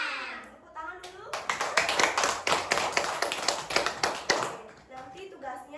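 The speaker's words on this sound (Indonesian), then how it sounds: "Tepuk tangan dulu." Students in a classroom break into a burst of brisk hand clapping lasting a few seconds, close and lively, with children's voices around it before and after.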